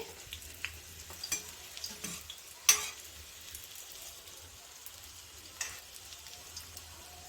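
Egg puffs frying in oil, turned to brown on all sides: a faint, quiet bubbling sizzle with scattered soft pops and one sharper clink or tap near the middle, no talking.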